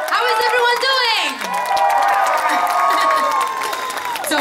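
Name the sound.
audience applause and cheering for Emma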